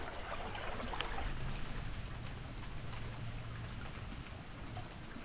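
Steady rain patters down beside a river during catfish fishing, a dense, even hiss of drops that holds for the whole stretch with no voices.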